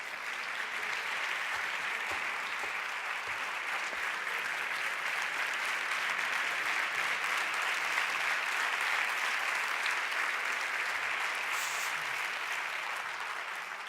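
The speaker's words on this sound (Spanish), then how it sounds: "Ese aplauso, ese aplauso." Dense, continuous applause from a large crowd at a formal event about women's advancement, even and loud throughout with no break.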